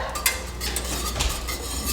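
A whisk clinks and scrapes against a metal pot of milk on a gas stove, quick irregular metallic taps over a steady burner roar, close and fairly loud.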